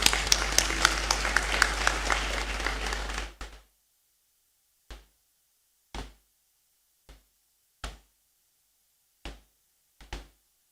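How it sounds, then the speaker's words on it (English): Audience applause at a university congregation ceremony in a great hall, a short burst of steady clapping that stops quickly, followed by a handful of isolated claps spaced out over several seconds. "Let's applaud."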